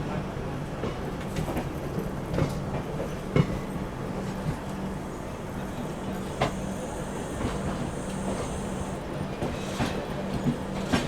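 The 12938 Garba SF Express passenger train, running from Howrah to Gandhidham, departs with a steady rolling rumble and evenly spaced wheel clacks, heard from on board over the whole stretch with a few louder knocks.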